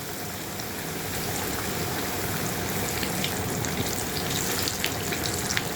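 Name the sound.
chicken frying in a pan for biryani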